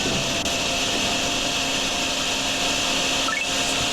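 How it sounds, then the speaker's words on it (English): A wet vacuum sucks up water in the drain-cleaning game DrainSim, a loud, steady, whining motor roar with a constant airy hiss that holds unbroken throughout, close by and with no voices. "Now I'd say we get started over here and vacuum out the rest of this"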